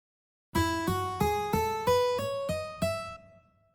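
A Korg keyboard patch with a slow attack setting plays seven separate notes climbing step by step, each one swelling in gently rather than striking, with a steady rhythm and a soft release tailing off at the end.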